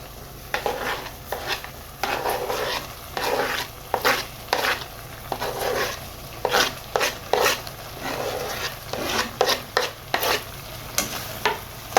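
Potatoes are stirred into a sizzling pot of lobster, with a steady frying hiss broken by repeated scraping and clattering stirs against the pot, close up and with no talking.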